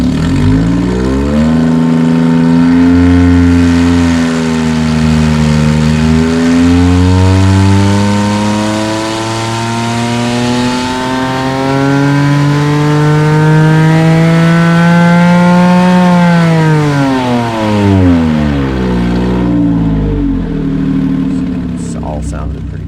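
A Porsche 997.1 with a naturally aspirated 4.1L engine revs hard on a dyno run, pitch climbing steadily toward a high peak near 8,200 rpm before dropping off, loud and continuous throughout.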